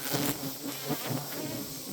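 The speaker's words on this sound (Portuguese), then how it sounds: "Elas estão bem agitadas, né? Atacando bastante. Mas é um comportamento dessa espécie de abelha, né?" Agitated tubuna stingless bees (Scaptotrigona) buzzing steadily and close, a dense continuous hum of many insects with slight swells, no voices.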